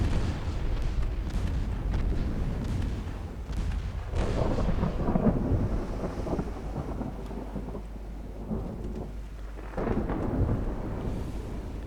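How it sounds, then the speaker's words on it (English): 5-inch naval guns firing in Ultimate Admiral Dreadnoughts, heavy rumbling booms rolling over a continuous low roar of battle, loud and dense, with no talking. "The 5-inch is firing."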